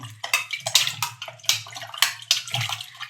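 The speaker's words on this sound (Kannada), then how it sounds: "ಆಲೂಗೆಡ್ಡೆನ 2 ಸಲ ತೊಳ್ಕೊಳ್ಳಿ ಗೈಸ್" Potatoes being washed by hand in water, with repeated sloshing and splashing bursts in a steady rhythm, close and fairly loud, with no talk.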